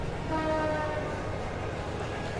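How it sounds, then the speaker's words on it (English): A train in the video game Trails of Cold Steel rumbles along steadily. A tonal horn note sounds briefly near the start over the continuous loud rolling noise. "There's another train."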